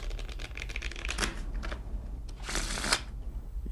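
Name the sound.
shuffling playing cards for a card trick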